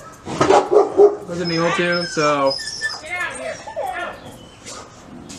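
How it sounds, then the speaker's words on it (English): A dog barks and whimpers in short bursts close by, mixed in with a person talking. "Sorry about the dog noises and stuff"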